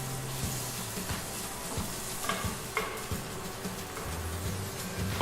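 Sliced onions sauté in a hot pan, a steady close sizzle with occasional stirring scrapes and clicks of a utensil throughout, no voices.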